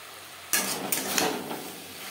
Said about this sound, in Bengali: 2-3 মিনিট হাই টু মিডিয়াম ফ্লেমে শিম নাড়াচাড়া করে নেওয়ার পর দিয়ে দেব টুকরো করে কেটে রাখা টমেটো